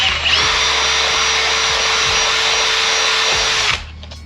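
A power drill whirs steadily at high speed for a few seconds while boring through a Type R car's center console, then winds down and stops abruptly.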